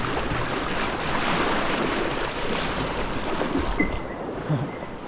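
River water in New Zealand's Ruahine Range rushes steadily and fairly loudly during a backcountry river crossing, a dense, unbroken wash of churning flow with a few faint splashes near the end. No voices are heard.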